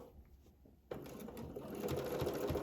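A domestic sewing machine fitted with a ruler foot stitches circles for machine quilting. After a near-silent first second it starts abruptly and runs as a close, steady mechanical whirr, with no talk.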